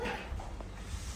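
A puppy at home whimpering softly, a short faint whine close by, heard alone with no talk.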